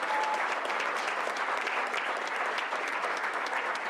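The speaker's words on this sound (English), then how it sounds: "Let's give them a round of applause." An audience at a business meeting applauding, a dense, steady wash of many hands clapping at moderate loudness for the whole stretch, with no voices over it.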